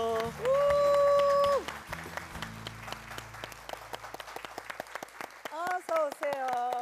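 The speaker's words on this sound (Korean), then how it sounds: "박수 부탁드릴게요." A church audience claps in a scattered, irregular patter of applause after a speaker with a microphone talks over it, the clapping thinning and then rising again near the end.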